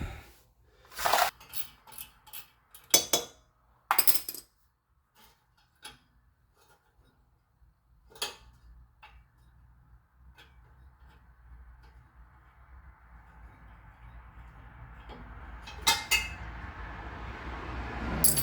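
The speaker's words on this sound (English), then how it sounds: "So let me zip these 2 bolts off." Bolts being removed from the dual-chamber muffler of an 8th-generation Honda Civic make sharp intermittent ratchet clicks and metallic clinks in short bursts, separated by quiet gaps, followed by a rising whirring buzz near the end.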